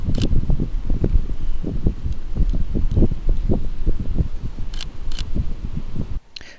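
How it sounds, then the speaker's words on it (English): An onshore breeze at the beach buffets the microphone in loud, continuous rumbling gusts. Brief clicks and rustles cut through, and the sound drops away abruptly at the end. "it's an onshore breeze and it's quite a lot windier than we thought"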